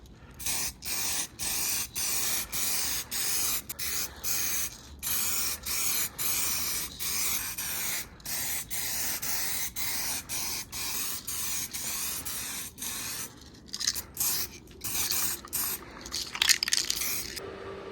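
An aerosol spray can lays a coating onto a carbon fibre front splitter for an AMG track car, heard as a loud, close hiss in repeated long bursts separated by brief pauses, with no voices.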